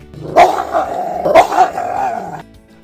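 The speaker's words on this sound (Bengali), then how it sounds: "গ্রে হাউন্ড কুকুরটা চেঁচাতে লাগলো" A greyhound barking and growling nearby, two sharp loud barks with a rough growl between them and after, heard on its own.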